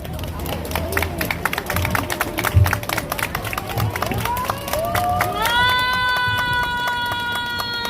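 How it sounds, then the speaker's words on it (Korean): Crowd clapping and cheering at an outdoor rally of medical students' parents in front of the presidential office, a dense patter of hands under murmuring voices, with sustained ringing tones rising toward the end. "올라오실 때 박수로 진행해 주십시오"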